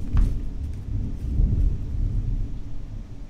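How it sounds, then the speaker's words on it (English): Deep thunder rumbles and rolls continuously during a heavy downpour, a low, shaking roar heard from indoors with the rain hiss underneath. "My room is shaking from this thunder right now."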